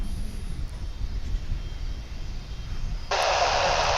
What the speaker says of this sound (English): Here is a Martinair flight.